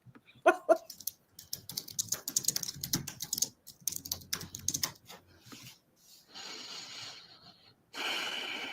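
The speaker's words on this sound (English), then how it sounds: "Typing 95 words per minute." Quick bursts of keyboard typing clatter up close, uneven rapid key clicks with short pauses, followed by a stretch of soft hiss and rustling.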